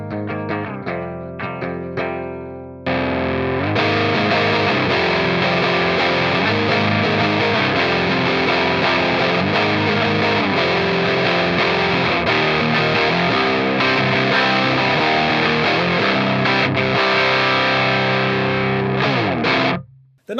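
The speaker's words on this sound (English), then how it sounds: "So this is it running through the Kraken's clean channel." Electric guitar played through a Spooky Vibes Night Terror boost pedal into the clean channel of a Kraken amp: a few picked notes, then loud sustained, slightly driven chords and riffs ringing on before cutting off abruptly.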